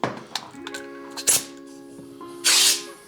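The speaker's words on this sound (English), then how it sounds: "Let's put some air in here and see how it holds." A hand pump inflates the tube of a kids' 16-inch Diamondback Viper bike tire, giving two sharp airy hissing strokes, fairly close, separated by light handling clicks and a faint steady tone.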